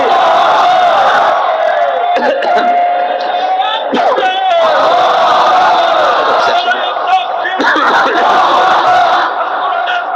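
A large crowd at a religious rally roars Allahu Akbar back in answer to a takbir call, loud massed voices sustained in unison with rising and falling surges of shouting.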